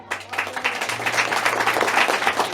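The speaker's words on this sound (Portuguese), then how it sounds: "glorifica o Senhor com as palmas" Church congregation at an evangelical worship service clapping their hands in praise, a dense and continuous wash of applause that begins almost at once and holds steady throughout.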